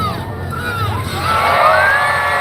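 A crowd screams and cheers at a monster truck show, with high shrieks and shouts swelling louder partway through.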